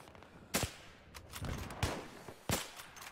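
Gunfire in the video game Battlefield 3: several sharp, loud shots ring out at irregular intervals over a busy battlefield background, with no talk.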